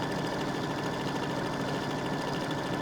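Embroidery machine stitching a quilting design on a quilt-block pillow, giving a steady, continuous mechanical whir and rapid needle clatter at even level throughout, close and alone.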